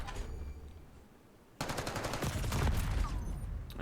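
Automatic gunfire in the Black Ops 6 video game during a ranked match: a quiet lull, then sudden loud, sustained rapid bursts of shots that keep going to the end.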